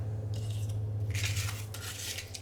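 Scissors snip paper around an envelope during handmade journal making, several short crisp cutting bursts up close over a low steady hum.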